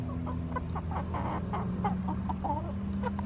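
Several hens cluck softly and continuously close by, short murmuring calls overlapping over a low steady hum.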